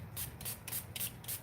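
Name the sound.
spray bottle spraying for acrylic painting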